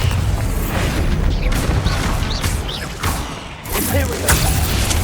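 Bombarda blasting spell in the Hogwarts Legacy video game, heavy booming impacts with crashing debris and swooshes over a steady low rumble, several loud hits across a few seconds.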